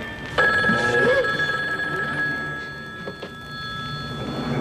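A telephone bell rings with a steady electronic trill that starts sharply and sustains at moderate loudness, part of a 2003 Filipino television comedy scene, with faint room sound and small knocks beneath it.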